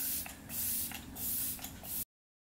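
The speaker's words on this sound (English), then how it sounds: "We'll spray the face." Several quick hissing spritzes of a setting mist spray bottle onto a face in rapid bursts, close and fairly soft.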